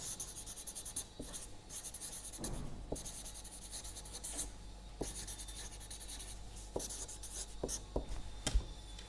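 Handwriting in a lecture on the angle between functions and their decomposition: steady scratchy strokes and taps of pen or chalk on a writing surface, close and fairly quiet, running the full length with no talking.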